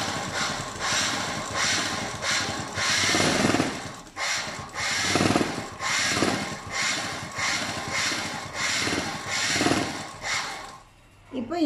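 A sewing machine stitches fabric in a tailoring lesson, running in short bursts of rapid mechanical chatter separated by brief pauses, close and fairly loud, stopping near the end.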